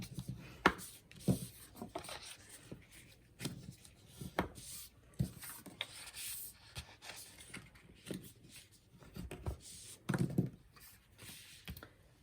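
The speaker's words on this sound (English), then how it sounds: "Just fold them in half." Paper pages, 6 3/4 by 4 3/8 inches, are folded in half for a handmade album, giving soft, close creasing and rustling taps scattered through a quiet room.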